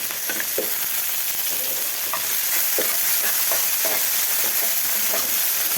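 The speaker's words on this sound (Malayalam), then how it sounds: "നന്നായിട്ട് തിളച്ച് വെളിച്ചെണ്ണയ്ക്കകത്ത് കടുക് മുഴുവനും പൊട്ടിച്ചെടുത്തതിന് ശേഷം മാത്രമാണ് വഴറ്റാനുള്ള മറ്റ് സാധനങ്ങൾ ഇട്ട് കൊടുക്കാവുള്ളൂ." Mustard seeds splutter in hot coconut oil in a pan, a steady close sizzle scattered with sharp irregular pops and crackles, with no voices.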